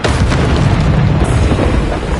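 Bombarda blast spell in Hogwarts Legacy, a loud, dense, sustained explosive roar filling the whole moment with heavy low rumble and no clear gaps.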